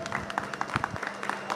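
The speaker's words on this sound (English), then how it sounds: "Round of applause, everyone." Applause for British Indoor Karting champions at a national finals event, a brief patter of scattered hand claps from a modest crowd with some voices mixed in.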